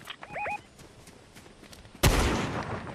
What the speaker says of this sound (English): I'm getting gunshots behind me